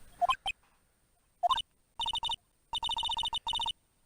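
A cell phone ringtone in the Phoenix Wright: Ace Attorney video game plays as short bursts of bright electronic beeping, separated by brief pauses, then repeated in quick rhythmic runs, clear and alone.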